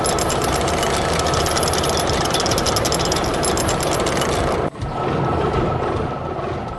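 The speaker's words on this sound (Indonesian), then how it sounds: "Traktor merah sedang menggemburkan tanah dengan plow-nya" A heavy red tractor engine rumbles and clatters continuously at close range while plowing soil, a loud, rough drone that dips briefly before carrying on.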